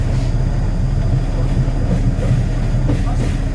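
An X2230 diesel railcar running between Montluçon and Limoges, heard from on board as a steady loud rumble with rhythmic track clatter throughout.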